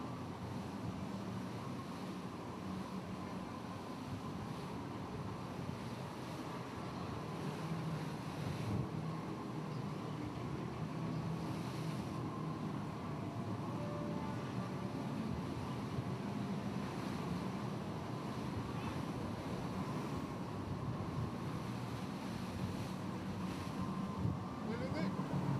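An offshore racing sailboat heads in toward a harbour channel, with a steady, loud rush of wind noise and churning waves throughout and no clear breaks.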